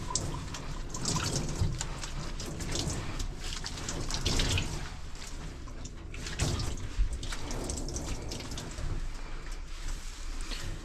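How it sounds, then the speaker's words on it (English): Hands squeeze water from a dog's coat, splashing and trickling steadily, dripping and running off in a continuous wet patter, close by, with no talking. "use my hands as a squeegee and just squeeze all this water out"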